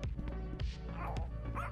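A dog barks and whimpers in short yips and whines, several close, loud bursts in quick succession, within the Quantum Escape game, with a faint voice briefly underneath.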